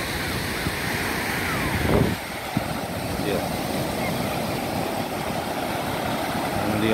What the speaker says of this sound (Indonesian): Dia ombak